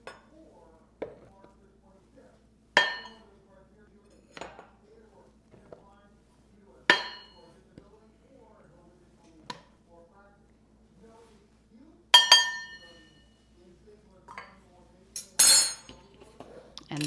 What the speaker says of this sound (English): We're going to be adding in 4 cups of bread flour.